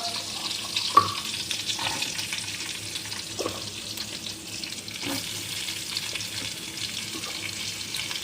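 Onions frying with cumin in a pan, a continuous close sizzle with occasional clicks and scrapes from stirring.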